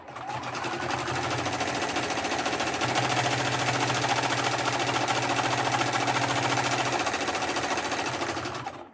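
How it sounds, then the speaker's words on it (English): A sewing machine runs steadily for about nine seconds, stitching straight down the edge of a fabric pouch with a fast, even mechanical chatter, close and loud with no talking. "You're going to take it back to your sewing machine. You're just going to go straight down"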